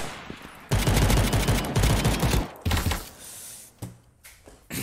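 Rapid bursts of video game gunfire from a semi-automatic rifle, loud and close, in several volleys with short gaps between them and no talking.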